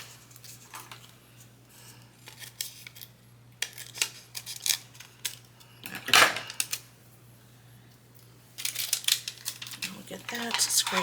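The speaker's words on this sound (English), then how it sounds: "I'm going to use this transfer tape from earlier." Cricut transfer tape being handled and pressed down onto a craft blank, giving intermittent crinkling, rubbing and peeling bursts with one sharp louder rustle, over a steady low hum.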